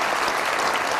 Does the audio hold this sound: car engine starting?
no